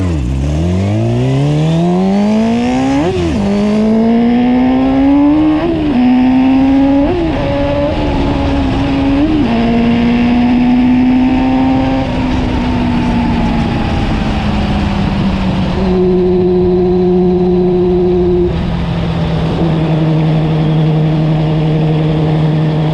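A custom ATC600R streetbike accelerates hard down a road, its engine climbing through several gear shifts into a loud, sustained high-speed drone, close to the microphone throughout.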